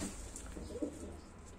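Pigeons inside a coop give a soft, low coo against a steady background murmur; the cooing is faint and brief, with no talking.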